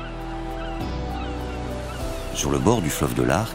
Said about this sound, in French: Un murmure seulement troublé par le chant des goélands argentés